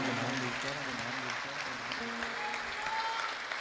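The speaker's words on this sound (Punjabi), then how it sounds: "ਇੱਕ ਵਾਰੀ ਜ਼ੋਰਦਾਰ ਤਾੜੀ ਆਪਣੀ ਧਰਤੀ ਦੇ ਨਾਮ ਦੀ" A large concert audience at a live Punjabi music show in Montreal applauds loudly and steadily throughout, a dense wash of clapping with faint crowd voices underneath.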